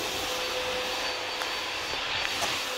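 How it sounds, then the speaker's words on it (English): A backpack vacuum cleaner fitted with a detail brush roars with a steady, loud broadband whoosh during a move-out apartment cleaning, with faint brushing and bumping noises mixed in. "Right now, Davis is vacuuming with our backpack and a brush."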